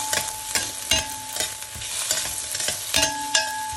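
Onions and ginger sautéing in a frying pan, a steady sizzle broken by repeated utensil scrapes and taps as the pan is stirred, heard close with no speech.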